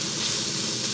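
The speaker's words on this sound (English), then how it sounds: "I'm gonna put these hash browns in it." Hash browns sizzle in avocado oil in a cast iron pan, a loud, steady hiss of frying with no pauses and no voices.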